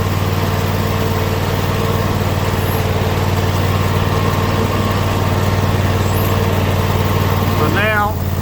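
A Troy-Bilt zero-turn mower with steering wheel runs in a yard, its engine a steady, loud drone throughout with the cutting deck engaged at full throttle, ending in a brief rising whine.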